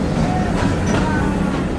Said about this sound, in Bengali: আর আমাদের ট্রেন ছোট্ট একটি কার্ভের সাথে বেরোচ্ছে বিভাগীয় স্টেশন খুলনা থেকে